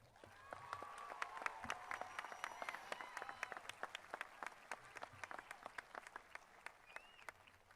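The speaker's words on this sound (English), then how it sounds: "Let's give these seniors a round of applause." An audience at a high school graduation ceremony applauds the graduating seniors, with dense steady clapping and faint crowd murmur throughout, moderately distant.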